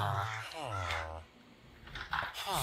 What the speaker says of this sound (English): Stupid bird outside!